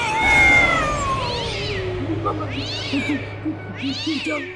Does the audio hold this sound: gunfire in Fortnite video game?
no